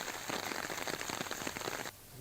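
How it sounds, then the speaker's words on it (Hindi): Heavy, continuous rain falls in Baran district, Rajasthan, a dense hiss of drops pattering on hard surfaces, steady and fairly close before cutting off abruptly near the end. "बारां जिले के बीते 3 दिनों से लगातार बारिश जारी है।"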